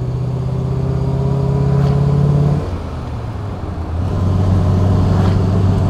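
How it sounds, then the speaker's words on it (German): A 1938 Horch 951 A Pullman Cabriolet's vintage eight-cylinder engine runs steadily and close by, with a deep, throaty idle that briefly dips in level midway before rising again. "Die Maschine hört sich super an. Man merkt, dass das ein 8-Zylinder ist."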